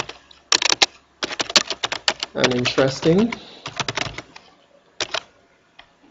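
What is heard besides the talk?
typing on a computer keyboard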